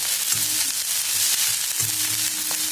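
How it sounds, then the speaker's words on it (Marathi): A vegetable roasts in oil in a pan for a traditional bhaji, producing a loud, constant frying sizzle with occasional low thumps from the pan. "फक्त तेल टाकून आपल्याला भाजून घ्यायचं"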